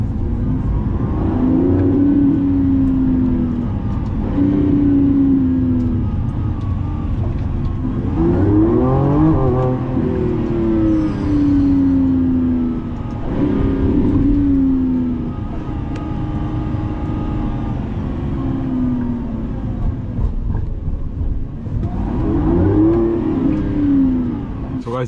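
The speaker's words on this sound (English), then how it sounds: "the engine will be switched on and you can have the V12 driving" A Lamborghini Revuelto V12 revs while driving, its deep engine note rising and falling in several surging pulls, loud and close, with a voice speaking over it.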